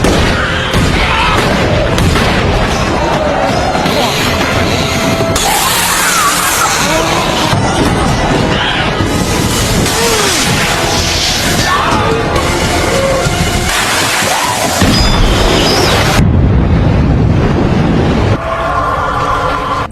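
Heavy explosions and crashing blasts fill a dense, loud film action sequence as a path is cleared through a horde of zombies, with booms and gunfire-like bangs layered throughout and no clear talk.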